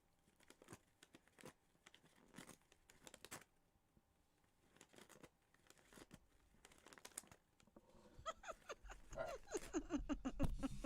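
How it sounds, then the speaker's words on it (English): Dry crinkling and tearing of paper by a cat in short bursts, with soft shuffling and rustling between; the sound grows busier and louder toward the end. "We just listened to a cat tear paper."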